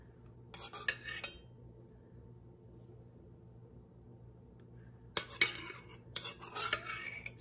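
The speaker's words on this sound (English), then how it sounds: "Now it wants the peaches and the juice on top of here, spooned over top." A spoon scrapes and clinks in a can and dish while canned peaches and juice are spooned over a dish, two short bursts of clattering separated by a quiet gap.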